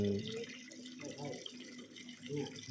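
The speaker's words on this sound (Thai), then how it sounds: "จุดนี้ น้ำก็จะไหลลงมานี่นะครับ" Water flowing down at a temple spring in Sakon Nakhon, a soft continuous trickling wash, quiet and fairly close, with a voice faintly murmuring over it.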